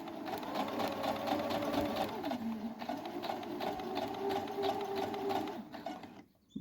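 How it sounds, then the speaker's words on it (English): A Brother HC-1850 sewing machine stitches fabric with a steady, continuous motor whir and rapid needle chatter, close and loud for about six seconds, its pitch dipping briefly partway through before it stops. "We're going to go ahead and do a little sewing."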